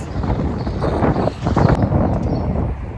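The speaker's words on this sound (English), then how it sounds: "It's so windy again." Steady wind blowing and buffeting against a nearby microphone, a continuous low rumble with gusty swells throughout.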